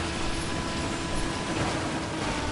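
A train rumbles in a video game with a continuous dense roar and faint mechanical rattling, steady and fairly loud throughout without any talking.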